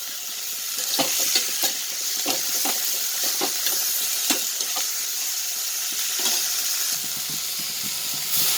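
Half a kilo of onions, small shallots, sautéing in a pan with tomatoes for a fenugreek kuzhambu, giving a steady close sizzle broken by repeated spatula scrapes and clacks, with no voices.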